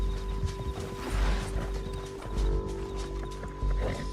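Horse hooves clip-clopping in the video game Red Dead Redemption 2, a rhythmic series of thudding hoofbeats over a steady low musical hum, moderately close.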